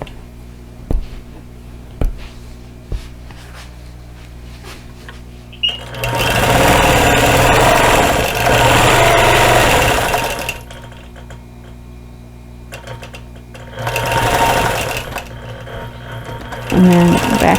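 A sewing machine stitches in the ditch on a quilted cactus basket wall hanging, running in two loud, fast, steady bursts of rapid needle chatter separated by quiet pauses with faint handling noises.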